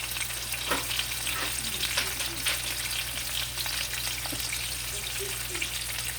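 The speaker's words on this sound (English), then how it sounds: "going to put a little bit of oregano on it while it's browning." Meat browns in a hot pan seasoned with oregano, a steady frying sizzle with small crackles and occasional stirring scrapes, close and fairly quiet, with no voices.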